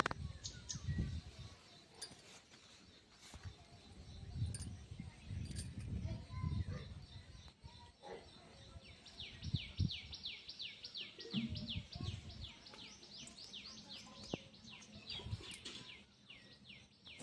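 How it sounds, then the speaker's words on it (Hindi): Birds chirping outdoors on a sunny morning, a steady run of rapid repeated high tweets and calls over low background rumble, with someone talking at times. "चिड़िए की चहचहाने की आवाज़ तो आप लोग सुन ही सकते होंगे"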